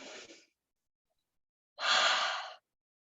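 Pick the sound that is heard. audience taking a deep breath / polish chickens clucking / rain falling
audience taking a deep breath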